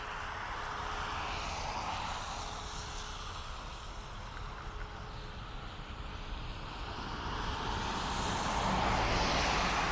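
A Ryanair airliner departing Dublin Airport makes a steady, distant jet roar with some wind noise, swelling louder toward the end.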